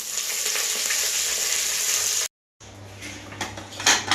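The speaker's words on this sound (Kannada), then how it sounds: "ತುರಿದಿಟ್ಕೊಂಡಿರೋ ಶುಂಠಿ ಲವಂಗ ಹಾಕ್ಕೊಳ್ಳೋಣ ಕರ್ಬೇವಿನ ಸೊಪ್ಪು ಹಾಕ್ಕೊಳ್ಳೋಣ" Grated ginger, cloves and curry leaves frying in hot tempering for pongal, a loud steady crackling sizzle that cuts off briefly, then returns softer with utensil scrapes and knocks.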